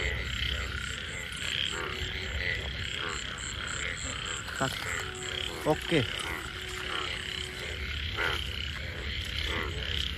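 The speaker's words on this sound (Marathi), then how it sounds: "रात्रीचे बेडकांचा आवाज येतो." Frogs croak at night in a dense outdoor chorus with a high insect-like drone, steady throughout, with a few louder nearby croaks and a brief spoken word.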